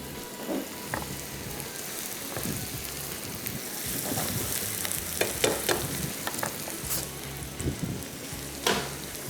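Chicken fries in green masala of coriander, mint, green chilli, garam masala, black pepper and roasted cumin, a loud steady sizzle with scraping stirs and occasional spoon knocks in the pan.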